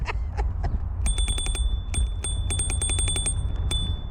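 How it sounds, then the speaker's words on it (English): A bell on an eScooter riding through Philadelphia rings in rapid repeated dings, bright and close, in several bursts over steady traffic and wind noise. "My fancy bell, I should say."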